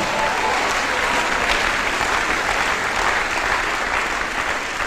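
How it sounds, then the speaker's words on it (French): A church congregation applauding the Lord, loud continuous clapping from a crowd filling the room evenly from start to finish with no pause. "Acclamez le Seigneur."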